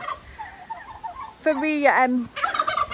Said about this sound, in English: they've currently got some turkeys there